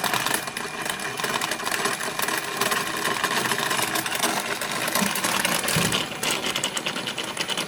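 Flywheel spinning on two sets of 3-phase wire coils driven at 15 Hertz, a loud, continuous, rapid buzzing rattle that holds steady throughout, close and alone.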